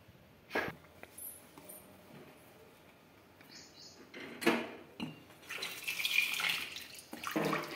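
Tap water runs over tomatoes being washed in a sink, with a couple of brief knocks at first and then a splashing, hissing stream that grows fuller toward the end.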